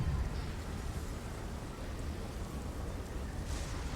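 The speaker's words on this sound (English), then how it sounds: "Burning village, moderate rain, forest night, dark and stormy" Moderate rain and stormy weather form a dense, steady hiss with a low rumbling undertone, an unbroken ambient wash with no voices.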